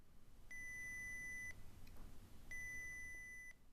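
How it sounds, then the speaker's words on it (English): Two steady, piercing 2000 Hz electronic tones from an Arduino water detection alarm, each lasting about a second with a one-second gap between them, sounding over a low background hum with no talking. "So I just tried to pick the most annoying beep noise I could, and that ended up being about 2000 hertz for this example."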